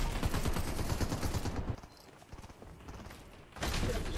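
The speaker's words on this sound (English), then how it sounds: "Nope, they're shooting at me." Fortnite gunfire rattles in fast bursts, a dense clatter of shots that drops away briefly before another loud volley resumes, with no talking over it.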